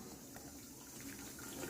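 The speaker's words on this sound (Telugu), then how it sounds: "ఇప్పుడు స్ట్రెయిన్ చేసేద్దాము వాటర్ అంతా" Boiled gooseberries (amla) being strained, with water pouring and splashing steadily for a short moment, faint and close, with no talk.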